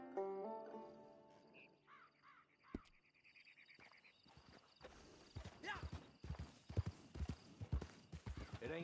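Horse hooves clip-clopping on a ride in Red Dead Redemption 2 Online, heard after an opening stretch of game music and tones; uneven close hoofbeats with tack rattle, faint bird calls, and someone speaking over them.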